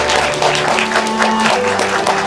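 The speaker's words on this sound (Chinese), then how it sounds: "也邀请大家以献上温暖的掌声来送给他们两人" Guests at a semi-outdoor wedding applaud the couple after the bride's veil is lifted: warm, continuous clapping over soft background music with sustained tones.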